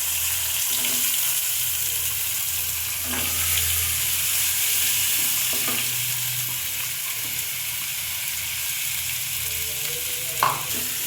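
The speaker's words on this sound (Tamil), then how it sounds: "நறுக்கி வச்சுருக்க அரை நெல்லிக்காயை போட்டு நல்லா எண்ணெயிலே வதக்கணும்" Continuous sizzling of chopped gooseberries sautéing in oil in a pan, with a low steady hum and a few light stirring clinks.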